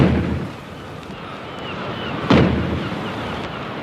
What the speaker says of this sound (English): They're sounding the alarm gun.